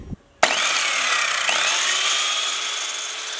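A multi-material saw on a jobsite-style stand starts up abruptly after a click and runs with a steady, loud, high whine, alone with no talk.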